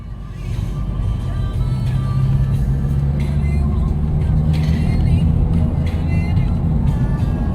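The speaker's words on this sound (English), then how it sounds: "Forward driving in the Mazda." A Mazda car drives along a rough country road with a loud, steady low engine drone and road rumble heard from inside the cabin, with occasional bumps.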